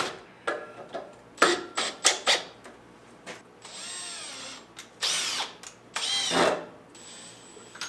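A cordless drill driver whirs in a series of short, loud bursts that spin up and cut off, with brief mechanical clicks between runs, in a workshop setting.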